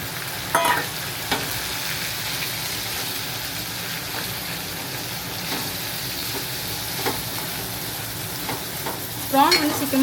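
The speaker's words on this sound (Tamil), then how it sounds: "இப்போ ப்ரான் வந்துட்டு இந்த இஞ்சி பூண்டு விழுது வந்து நல்லா கோல்டன் ஃப்ரை ஆனதுக்கப்புறமா" Prawns frying in ginger garlic paste for biryani sizzle steadily for about ten seconds, with stirring scrapes and a louder burst of crackle near the end.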